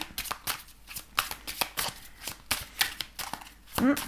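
Oracle cards shuffled by hand, a series of crisp riffling bursts and soft slaps in an uneven rhythm, close and clear with no talking.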